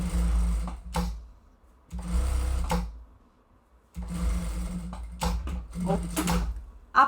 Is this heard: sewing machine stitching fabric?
yes